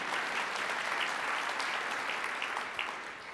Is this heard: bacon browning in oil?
no